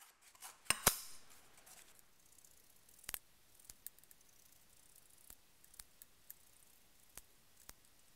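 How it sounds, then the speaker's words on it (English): Scissors snip through leather for a hatchet case, a quiet series of sharp, separate clicks, a couple close together at first, then single cuts spaced about a second apart. "After that, go ahead and cut it out with some scissors"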